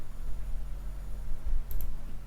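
Two quick mouse clicks as a double-click during work in Revit MEP 2021, soft and close over a steady low hum, landing near the end.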